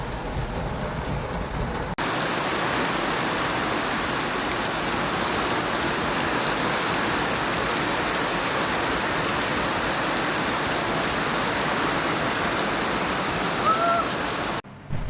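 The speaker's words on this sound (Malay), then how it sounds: "tengoklah keadaan di luar ni, sangat-sangat lebat hujan" Very heavy rain pours down outdoors in a steady, dense hiss that stays loud and unbroken for many seconds, with no voices.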